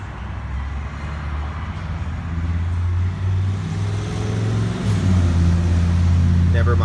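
A truck rumbles past with a low, steady engine drone that swells slightly as it goes by, while a person speaks over it.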